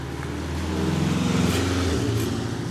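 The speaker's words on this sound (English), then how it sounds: "Oh, there's like a Ferrari coming by." A Ferrari passing on a road in the Cotswolds, its engine note swelling to a steady, fairly loud drone and then dropping in pitch as it moves away.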